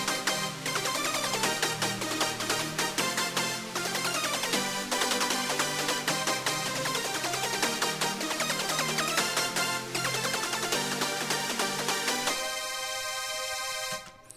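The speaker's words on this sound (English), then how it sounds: "we have this main brass synth, which sounds a bit like this" A bright, dense brass-style synth plays the intro of an electronic track, loud and continuous with pulsing rhythmic chords and a full layered mix that thins out near the end.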